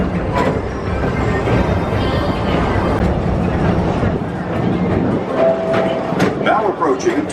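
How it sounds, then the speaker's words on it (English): A theme park express train ride at Magic Kingdom rumbles and rolls along steadily with rail clatter, while a person talks over the ride noise throughout. "your express train keeps on rolling through the future"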